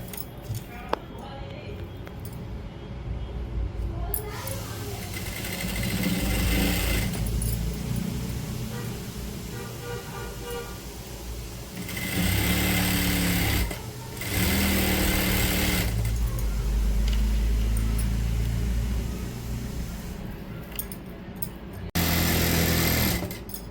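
Sewing machine stitching a Kashmiri palazzo seam along the pocket, running in several sustained bursts of rapid mechanical whirring with brief pauses between them, under steady room noise.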